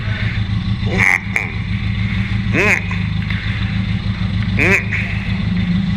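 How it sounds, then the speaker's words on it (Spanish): A motorcycle idling with a low steady engine rumble while being pushed backward on rough stony ground, with short sharp squeaks breaking through at intervals; someone talks over it. "esta moto para echarla para atrás es una pesadilla"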